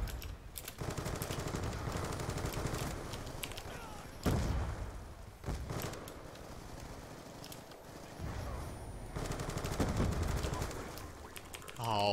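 Rapid automatic gunfire and bursts from the video game Black Ops 2 during a Domination match, loud and nearly continuous across the whole stretch, with a few sharper blasts standing out.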